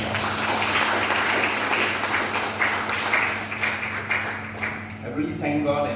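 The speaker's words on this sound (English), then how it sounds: "Let's give him a round of applause." An audience applauds steadily at a book launch and sponsorship ceremony in the Penang State Assembly Hall, a dense, sustained clapping that fades near the end as a speaker's voice comes back in.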